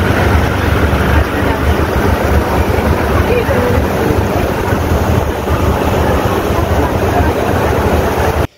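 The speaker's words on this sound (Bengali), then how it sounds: "এই লঞ্চ কিন্তু ঘুরে গেল পুরোটা।" A ferry launch, a Kolkata water metro boat, runs along the Ganges with a loud, constant engine drone, water rush and wind buffeting the microphone, unbroken throughout.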